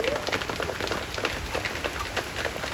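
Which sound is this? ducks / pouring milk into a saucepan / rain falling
rain falling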